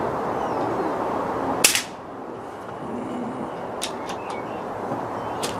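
A single sharp crack from an FX Crown Mk1 .177 air rifle firing, then a few faint ticks and taps over a steady outdoor background hiss, with no talk.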